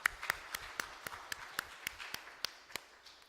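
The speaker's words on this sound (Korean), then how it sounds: "하나님 감사의 영광의 박수를 돌려드립니다" Sparse, slow hand claps at a church worship service, about a dozen evenly spaced sharp claps at moderate distance, with faint room noise between them.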